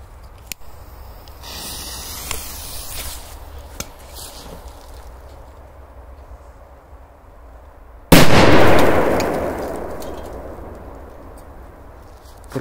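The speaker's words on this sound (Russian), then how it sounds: "Просто лютые взрывы" Firecrackers blast inside drink cans outdoors, a sudden loud bang with a long roaring hiss and rumble trailing after, following quieter scattered pops and crackles.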